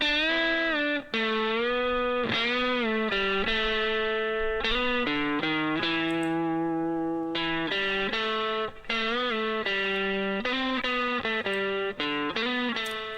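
Electric guitar playing sustained notes and chords, with EQ, saturation and compression, washed in reverb that lets each note ring and trail off, with a saturated, effected tone.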